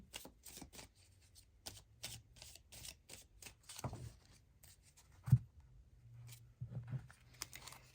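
Oracle cards from a Forest Fae deck being shuffled and drawn, a close, quiet run of quick riffling flicks and slides with a few soft taps and a brief louder snap partway through.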